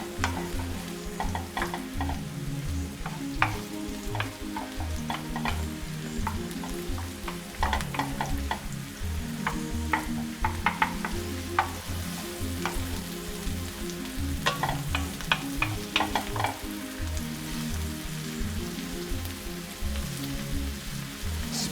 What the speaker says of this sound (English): Just mix this in.